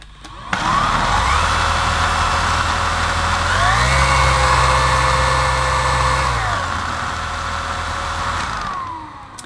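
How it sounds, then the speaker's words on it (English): A Bosch BCS111GB Unlimited cordless vacuum cleaner starts up with its brush roll spinning, a loud close motor whine that steps up in speed partway through, holds, then drops back before the machine switches off. "Let's see if there's enough power to drive the brush roll."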